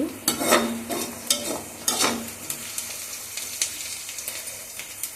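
Onions frying in a pan for an arbi root curry and being stirred, with scraping strokes and bursts of sizzle at first that settle into a quieter, steady frying crackle.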